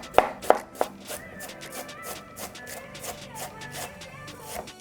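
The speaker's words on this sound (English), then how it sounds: "So this is how we cut an onion over here" A sharp knife finely chops an onion on a board: a few crisp, loud strikes at first, then quicker, softer rhythmic cuts close by.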